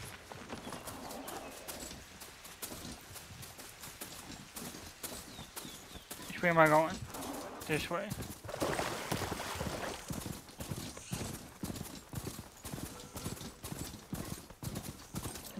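Horse hooves clip-clop at a steady trot in Horizon Forbidden West, rhythmic and close, with a brief whinny midway, birdsong, and a player talking over it.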